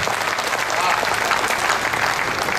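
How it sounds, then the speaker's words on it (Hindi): An audience at a Hindi poetry recital claps steadily in dense, sustained applause that fills the whole moment without a break. "एक बार मुझे आप तालियों से आदेशित करें"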